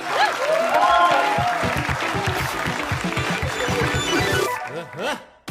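Studio audience applause at a comedy talk show, a loud, steady wash of clapping that runs under people talking for about four and a half seconds, then drops away as the voices carry on alone.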